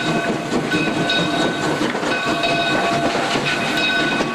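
Virginia & Truckee steam train running around its cars at Gold Hill, a steady close rumble of wheels and machinery with a constant hiss and faint tonal whistle-like ringing, no talk.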